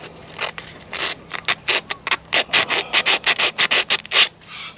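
Sandpaper rubbed by hand over the timing mark on the engine of an old abandoned Holden ute: a quick run of close, rasping strokes in an uneven rhythm, loud, with no talk.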